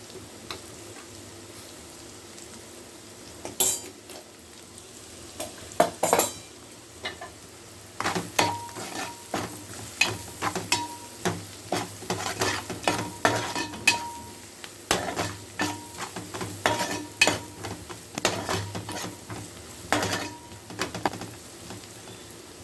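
Gongura curry with chilli powder is stirred in a pan, with a low sizzle underneath and repeated sharp scrapes and clinks of a spoon against the metal at an uneven rhythm, up close and without talk.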